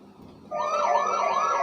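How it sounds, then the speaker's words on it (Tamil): A Talking Tom toy wails a steady, loud electronic vehicle siren that switches on abruptly and keeps a rising-falling tone at close range. "இந்த பார்த்தீங்கன்னா வெஹிக்கல் சவுண்டு"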